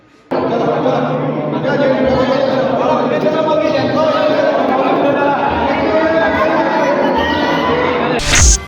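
A dense crowd of devotees at a Mahashivratri temple, loud continuous chatter and voices with scattered shouts, ending in a brief sharp burst of noise.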